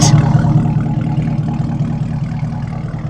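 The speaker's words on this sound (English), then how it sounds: "Hear that exhaust? It's gonna be a Corsa Performance exhaust." A Chevrolet Camaro ZL1 fitted with a Corsa Performance exhaust rumbles nearby, its deep, steady exhaust note holding a low, throbbing idle without pause.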